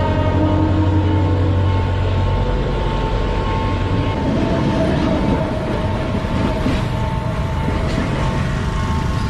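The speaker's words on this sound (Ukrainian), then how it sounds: "от виглядає поїзд в Шриланці" A passing train in Sri Lanka, a loud continuous rumble and rattle of rail cars close by, with steady horn-like tones in the first couple of seconds, no talking.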